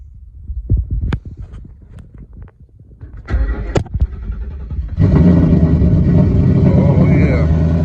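A race car engine on a drag-racing car with a 3.73 gear swap starts by push button, with clicks and a brief cranking before a loud, steady, deep idle rumble takes over at close range.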